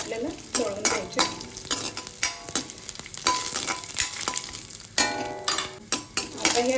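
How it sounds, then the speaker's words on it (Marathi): Whole dry fruits fried in a pan with cinnamon, cardamom and cloves, giving a steady close sizzle broken by repeated scraping and clinking stirs of a spoon against the metal pan. "आता त्याच्यातच आपण हे ड्रायफ्रूट घालूया। हे पण थोडेसे आपल्याला तळून घ्यायचे।"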